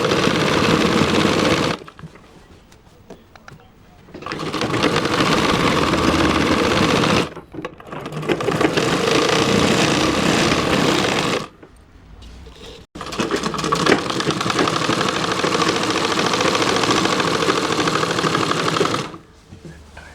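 An electric sewing machine stitches two pieces of fabric together for gathered pants, running in long loud continuous buzzing bursts separated by brief stops, very close with no talking.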